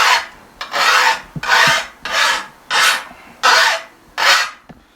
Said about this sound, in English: And that's that file biting into that lip.